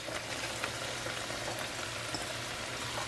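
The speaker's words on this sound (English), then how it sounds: "you're gonna add your broccoli in." Broccoli going into a pan of simmering, thickened sauce over medium-low heat, giving a soft, steady bubbling hiss with faint low hum, close by and fairly quiet throughout.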